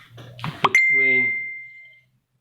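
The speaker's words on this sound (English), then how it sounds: "my phone keeps on making a noise" A phone notification during a painting session gives a single clear chime that rings out for over a second after a short burst of voice and a clink.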